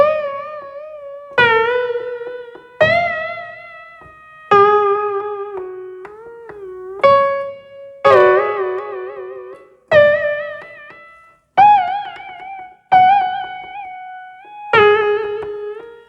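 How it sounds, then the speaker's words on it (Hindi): A Casio CTX-870 keyboard plays a stage piano tone, and separate struck notes and chords get bent up and down with the pitch bend wheel. The tones warble and slide, then decay between hits, loud and clear with no voices. "इसके साउंड में देखिए पिच बेंडर व्हील पूरी तरह से काम कर रहा है"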